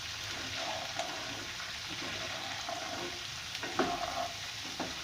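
Garlic and cumin fry in a pan over a low gas flame, a steady soft sizzle running throughout with a few brief clinks of stirring near the end.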